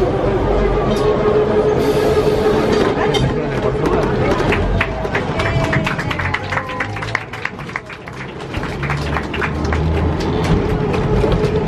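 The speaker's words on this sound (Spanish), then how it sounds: "y ponemos el tranvía en movimiento" Tourist tram in Buenos Aires starting to move, a continuous rail rumble with clattering wheels and rattles, under people talking nearby.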